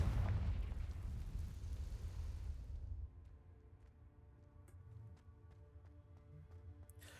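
A Confringo fire spell from Hogwarts Legacy erupts as a loud, roaring blast that rumbles for about three seconds, then fades into quieter game ambience with soft tonal music and light clicks.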